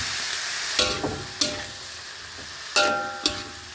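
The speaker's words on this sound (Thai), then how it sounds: "ผัดเข้าไปนะครับ" Vegetables stir-fried in a pan sizzle steadily beneath a handful of sharp metallic scrapes and clacks of the spatula, spaced irregularly, close and fairly loud with no talking.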